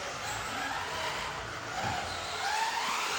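A radio-controlled 1/12 scale buggy runs a lap of an outdoor track at a model show, its high electric whine and tire scrub steady and fairly loud against broad crowd and ambient noise.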